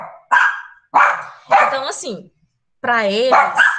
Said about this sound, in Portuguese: desculpa o barulho dos cachorros